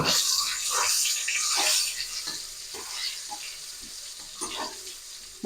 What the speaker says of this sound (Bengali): তেলটা গরম হয়ে গেছে এবার আমি বেগুনগুলোকে ভেজে নেব